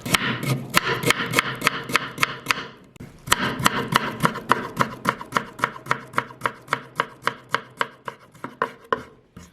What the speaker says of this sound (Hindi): अदरक को इस तरह बारीक बारीक आपने काटनी है